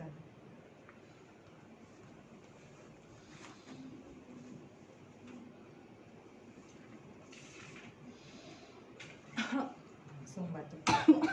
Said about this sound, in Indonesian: tapi langsung batukkan seperti ini ya